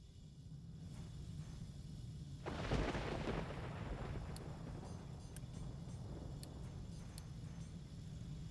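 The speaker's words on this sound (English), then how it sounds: "Oh, it was thunder. I thought the ship crashed for a second there." Thunder in a video game, a deep rolling rumble that swells suddenly and then fades slowly over a steady low background hum, with a few faint clicks later.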